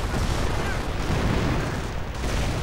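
An artillery barrage in a strategy war game rumbles as a dense, continuous wash of booming explosions, loud and close throughout, with faint talk underneath.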